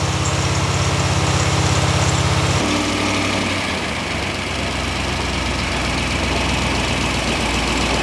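A freshly rebuilt engine idles steadily at close range, first with a heavy low throb that drops to a lighter, even running note partway through. It stays loud and continuous with no talk over it.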